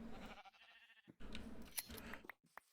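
A sheep in the Minecraft video game bleats a few short times at close range, with faint crunchy shearing clicks and brief gaps of silence between the sounds.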